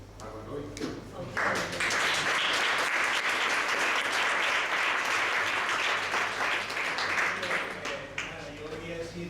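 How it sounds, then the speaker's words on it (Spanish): An audience at a talk on social resistance in the Canary Islands breaks into applause for a speaker, with crisp, dense clapping that swells after a brief start and holds steady, with some voices audible underneath. "le pediría un aplauso para Godoy"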